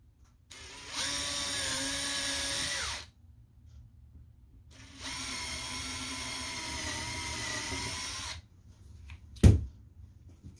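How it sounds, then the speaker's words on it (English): A power drill whirs in two sustained runs of a few seconds each while drilling a pilot hole in wood for a beehive, separated by a pause, followed by a sharp knock near the end. "And then we're going to drill a little pilot hole."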